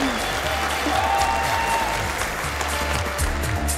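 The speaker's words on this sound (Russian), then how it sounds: "Громкие аплодисменты!" Loud applause from the audience at a university KVN comedy festival in Primorye, a sustained dense crackle of many clapping hands, steady and close throughout.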